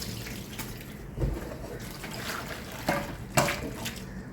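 Water runs and splashes while a doormat is rinsed by hand, a steady close hiss of flowing water broken by a few louder sloshes.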